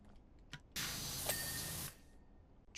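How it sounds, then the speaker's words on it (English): Pressure washer spraying in the video game PowerWash Simulator 2, cleaning a shopping mall: one steady, loud hissing burst lasting about a second, with quiet before and after and no talk. "I just keep spraying a certain area"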